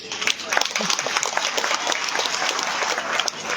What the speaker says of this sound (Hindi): जोरदार एक ताली स्कूल के।